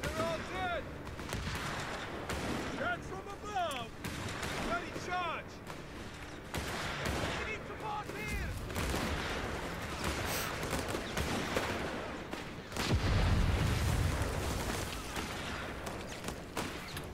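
Rifles and machine guns fire in repeated volleys during a Company of Heroes 3 Italian campaign battle, with sharp cracks and bursts, some near and some distant, heavier booms near the end, under frequent soldier voices.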